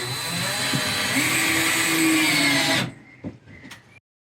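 Power drill driving screws into wood behind a cement wall in a derelict Irish farmhouse: a close, loud whine lasting nearly three seconds that stops abruptly, followed by a few faint clicks and knocks, with no talk.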